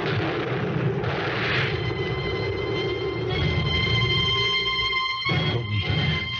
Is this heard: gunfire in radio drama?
yes